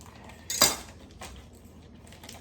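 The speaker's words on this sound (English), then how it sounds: "I'm going to cut the bacon." A knife cuts into raw bacon on a board, with one sharp knock and scrape near the start followed by a few faint, quieter cutting sounds.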